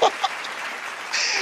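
A few scattered claps at the start, then a thin, moderate spread of applause in a large hall during a State of the Nation Address, building slightly toward the end.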